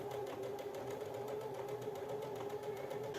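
A sewing machine stitches mitten pieces together along their outline with a rapid, even run of needle strokes and a steady motor hum at close range, with no talking.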